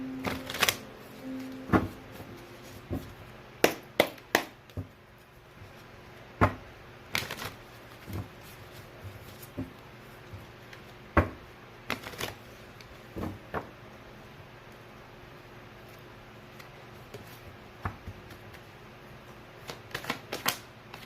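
An archetype card deck is handled and shuffled for a pick-a-card reading: scattered sharp, close taps and flicks of cards, some in quick clusters, over a quiet room with a faint steady hum.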